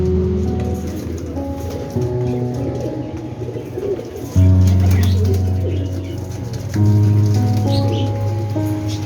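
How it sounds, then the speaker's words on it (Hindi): Pigeons at a pigeon market in Tench Bhatta, Rawalpindi, coo and rustle continuously, with low steady cooing layered over chatter and wing flutters and a light background hiss. "कबूतर काला सामने।"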